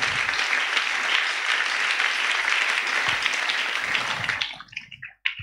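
A church congregation gathered under a tent claps in sustained, dense applause that fills the space, then fades and breaks into scattered claps at the end.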